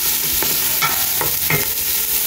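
Chopped onions are tipped into a pan of frying curry leaves and stirred, giving a loud, close sizzle broken by several scraping stirs.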